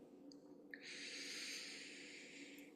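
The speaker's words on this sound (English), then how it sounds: "Needed a nice breath after that." A single deep breath drawn in through the nose, a soft, close, sustained airy inhalation heard alone in a quiet room.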